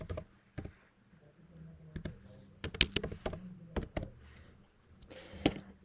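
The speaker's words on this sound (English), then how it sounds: "Let's start typing our very first HTML code together" Irregular bursts of keystrokes on a computer keyboard while entering beginner HTML code, with scattered close clicks and short pauses between runs, fairly quiet and without any talking.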